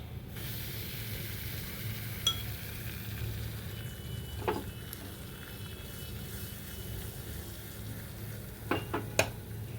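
Hot oil tempering for Sindhi daal, with garam masala and Kashmiri red chili powder added after the gas flame is off, gives a steady soft sizzle and hiss. A few faint clicks and taps are scattered through it.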